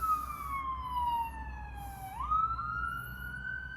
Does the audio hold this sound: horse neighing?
no